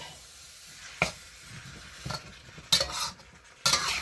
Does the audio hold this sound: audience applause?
no